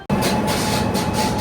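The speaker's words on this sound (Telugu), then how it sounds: "పక్క ప్లాట్ఫామ్లోకి ఇప్పుడే తిరుమల ఎక్స్ప్రెస్ అయితే వస్తుంది." The Tirumala Express from Visakhapatnam rolls into the adjacent platform with a loud, close, continuous rumble that starts abruptly and holds steady throughout.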